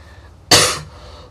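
A single sharp cough bursts out close by, then fades into quiet room tone.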